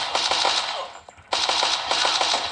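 Rapid gunfire in a mobile shooting game: bursts of automatic shots in quick repeated volleys, loud and close, broken by a short pause before the firing resumes.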